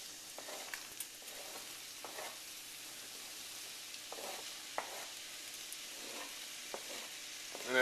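Garlic and onions fry in a pan with a soft, steady sizzle and a few faint clicks of stirring, fairly quiet, with no talking.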